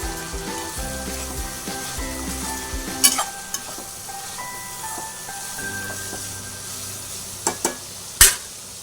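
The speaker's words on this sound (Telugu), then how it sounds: "కొంచెం నూనెలో బాగా మగ్గనివ్వాలండి." Egg curry ingredients sizzle and fry steadily in hot oil in a pan, with a few sharp spoon clinks against the pan and no talking.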